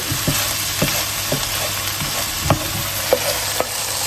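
Button mushrooms sizzle steadily in a hot pan while a utensil gathers them together, with soft scraping taps punctuating the continuous close frying hiss; no one speaks.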